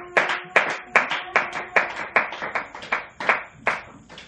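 A church congregation claps in a steady, even rhythm at a Pentecost service, about eleven sharp, close claps of many hands in quick succession, with no voices standing out above them.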